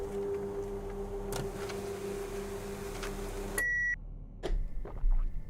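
A fax machine runs inside a horror video game, with a steady mechanical hum and whir that stops with a sharp beep near the end, followed by a few soft clicks and thumps.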